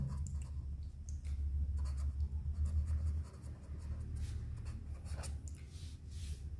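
Marker or chalk scratching steadily across a board while notes are written, close and continuous over a low background hum, with no voice.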